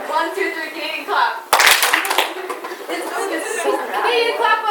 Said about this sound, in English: Okay, 1, 2, 3, Canadian clap.